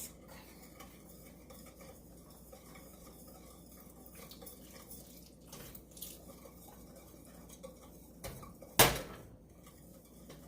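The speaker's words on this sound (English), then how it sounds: "So we're going to slowly add it in and whisk." Whole milk being whisked into egg-free pudding mix in a bowl, a soft continuous swishing and light clinking of the whisk, with one sharper knock near the end.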